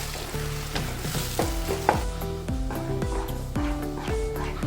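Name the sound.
jackfruit pulp cooking and being stirred in ghee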